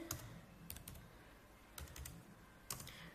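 Keys on a computer keyboard clatter in short, irregular bursts as Arduino code is typed, close and quiet with pauses between runs and no talking.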